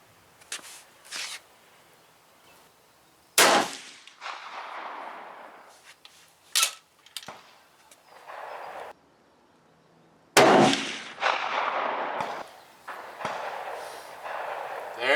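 A rifle firing GP-11 ammunition at an outdoor range: several loud, sharp shots spaced out over about fifteen seconds, each cracking out and ringing off, with quieter handling sounds between.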